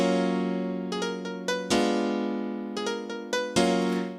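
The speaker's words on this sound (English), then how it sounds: "let's actually open up the Korg M1 with the classic house piano" Classic house piano preset from a Korg M1 VST, played unedited: sustained bright piano chords struck in an irregular rhythm, each attack ringing out and overlapping the next, heard alone at a moderate level.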